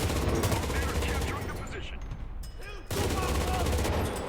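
Gunfire in the Enlisted video game, fired from behind enemy lines: dense, continuous volleys of shots that briefly thin out mid-clip before resuming at full loudness.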